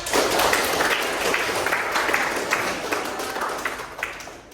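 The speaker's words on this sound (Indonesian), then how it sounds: "Tepuk tangan buat kita semuanya" A classroom of students claps together in a sustained burst of hand clapping, loud and dense for several seconds before tapering slightly.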